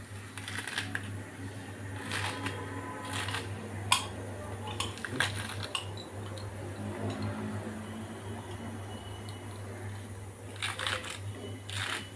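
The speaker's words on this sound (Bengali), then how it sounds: "এখানে ছোট ছোট করে কুচিয়ে নিচ্ছি।" A knife chops food finely on a board for an egg roll, a steady run of soft rapid taps with a few louder strikes over a constant low background hum.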